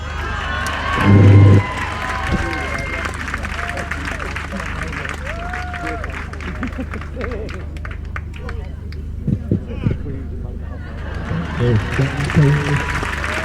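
Spectators at an outdoor Highland Games strongman event cheer and call out across an open field, a diffuse crowd roar with scattered shouts and a booming thump near the start, with people talking close by.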